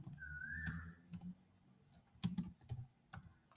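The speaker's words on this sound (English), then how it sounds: "now I'm going to type some timeline" Keystrokes on a computer keyboard typing timeline text into a slide, coming in short irregular bursts of clicks with pauses between, close and fairly quiet.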